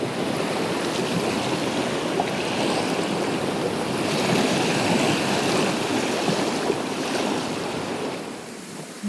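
Choppy spring-tide water in the Sound of Lyng on Scotland's west coast rushes and splashes around a moving sailing boat, a dense, continuous churning roar with wind, loud and close, with no talk.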